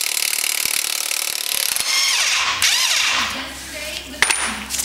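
A 32 mm axle nut being loosened on a swing arm: loud metallic ratcheting and grinding tool noise, then scraping and a sharp clank near the end, close up.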